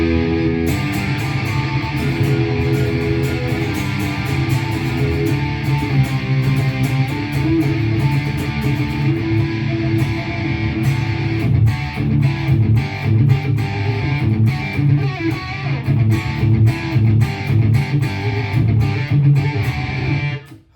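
Strandberg Boden Metal electric guitar played through a distorted American rock tone, sustained chords ringing loud and thick for the first half, then choppier palm-muted rhythmic strums with sharp attacks, no talking.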